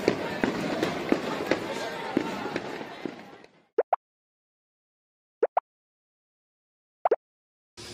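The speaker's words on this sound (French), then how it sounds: "On entend encore les feux d'artifice qui pètent derrière." Distant fireworks bursting at night in Kyoto, Japan, heard first as a dense crackling rumble for about three seconds, then as three isolated pairs of sharp pops separated by near silence.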